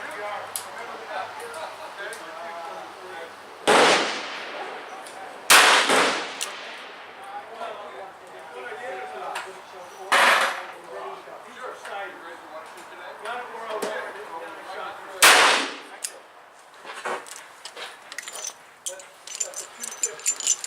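A .38 Special revolver firing 200-grain loads with HS6 powder at an outdoor range lets off five loud, close shots spread over several seconds, with background chatter and handling noise between them.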